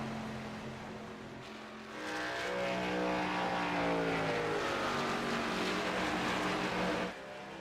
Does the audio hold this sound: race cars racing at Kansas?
yes